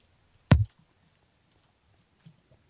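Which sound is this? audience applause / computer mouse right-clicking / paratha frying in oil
computer mouse right-clicking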